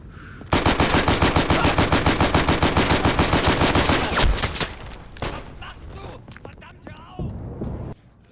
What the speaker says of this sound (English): I decided to use hip fire instead of aiming down sight